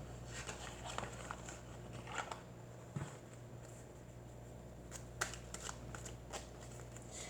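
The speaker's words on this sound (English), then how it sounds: "I like shuffling with mini cards." A small mini oracle card deck is shuffled softly and close by, riffling in short repeated bursts with quiet pauses between them and no talking.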